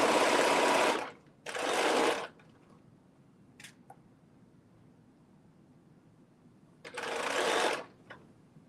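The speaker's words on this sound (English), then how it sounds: "I'm just going to do a little back stitch, and we'll be done with that." A sewing machine stitches a back stitch in three short whirring bursts separated by quiet pauses, with a couple of faint clicks between runs.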